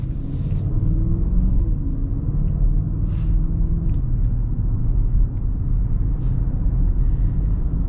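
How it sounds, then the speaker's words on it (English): A 2024 Audi SQ8 V8 engine running on the move, heard as a smooth, steady low rumble with road noise from inside the cabin, continuous and without talk. "Yeah, this V8's very smooth."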